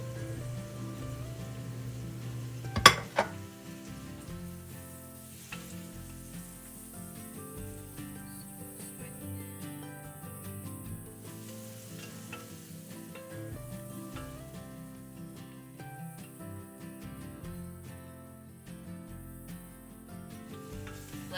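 Ground spices such as coriander, cumin and garam masala sizzle steadily in a hot pan for a vegan chana masala rice, with a sharp clatter early on and continuous crackling frying throughout, no voices.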